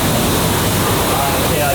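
A pressure washer blasts water onto a dirt bike, making a loud, continuous hiss and roar of spray that holds steady and close throughout.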